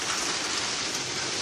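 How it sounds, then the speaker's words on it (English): Warm rain pours down steadily and close by, a dense, even hiss of drops with no voices. "Now we just got rain on me."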